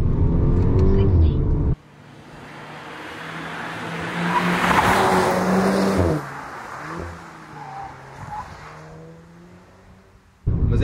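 A Volkswagen Golf MK6 GTI Edition 35 engine revs up and cuts out against its soft limiter, a steady rising drone with stepped tones under a car-interior hush, with someone talking before and after.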